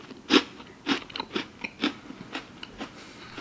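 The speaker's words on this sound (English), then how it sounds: "Mostly so I can let you hear that crunch" Several crisp, close crunches as a warm, freshly baked treat is bitten and chewed, sharp bursts repeating roughly every half second, loudest at the first bite and fading slightly after.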